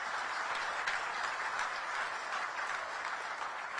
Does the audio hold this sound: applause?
yes